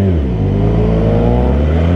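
Suzuki Gixxer motorcycle engine revving loudly up close, a dense, sustained rumbling growl held over two seconds with no voices.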